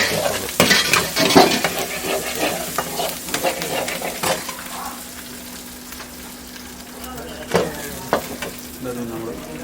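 Garlic and spices frying in oil with tempered mustard seeds, close sizzling with spoon stirring and occasional clinks of utensils against the pan.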